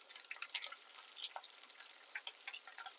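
Curry leaves sizzling in hot oil, a faint, close crackle of quick spits and pops in irregular bursts over a thin hiss, without voices.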